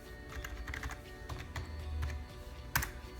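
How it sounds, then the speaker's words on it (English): A computer keyboard at a Windows 10 login screen as a password is typed, a run of soft, quick taps with one sharper key press near the end, close and quiet. "now we're going to go ahead and type in the password here"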